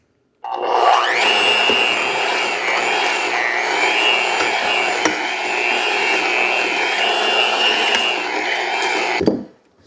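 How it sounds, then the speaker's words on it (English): An electric hand mixer beats a banana pudding mixture in a loud, continuous whir that starts abruptly, holds steady for about nine seconds, then cuts off. "I'm going to start to use the hand mixer for"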